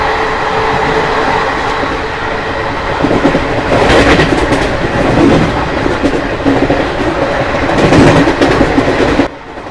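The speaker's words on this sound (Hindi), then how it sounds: "और जब ऐसी स्पीड में आईसीएफ रेक्स दौड़ती है तो जो ध्वनि होती है वो बहुत ही आकर्षक लगती है।" Yuva Express ICF rake passenger train running at 130 km/h, heard from on board as a loud, steady rushing roar with rhythmic clickety-clack of wheels over rail joints and bursts of rattle, alone without talk.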